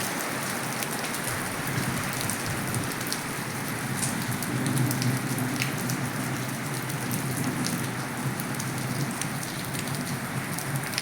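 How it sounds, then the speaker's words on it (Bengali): Light spring rain after a spell of intense heat, heard from indoors behind a window grille: a steady, soft patter of drops on surfaces, continuous and even throughout, with no voices. "বৃষ্টি ক্যামেরা বন্দি করছি।"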